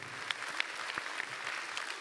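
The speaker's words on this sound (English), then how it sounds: "Give a round of applause." Audience at a Comic-Con reunion panel applauding, a faint, distant wash of clapping with a few sharper individual claps standing out.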